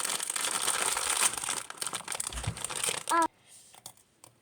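Plastic snack packets, including flavored stick snacks, crinkle and tear open up close in rapid rustling bursts. A short clack follows, then near silence.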